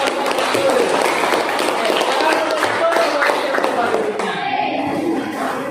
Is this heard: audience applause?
yes